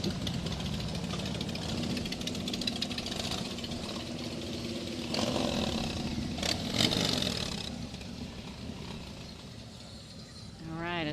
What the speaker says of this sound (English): as our motorcycles clear out